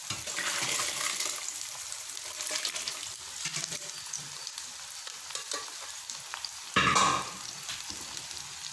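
Cooked mutton and its water poured into a sizzling pan for mutton kuzhambu, a steady frying hiss with splashing and stirring, plus a sharper burst of sizzle near the end.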